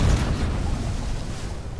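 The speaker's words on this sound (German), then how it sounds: "Jetzt ist das einfach explodiert." A loud explosion in the video game F.E.A.R., a heavy low rumbling blast that decays slowly over about two seconds with no speech.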